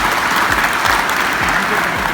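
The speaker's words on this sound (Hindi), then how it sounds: "जोरदार तालियों से ओखर मन का स्वागत करें।" Loud, dense applause from a college audience at an Independence Day program, steady and close throughout, with voices mixed into the clapping.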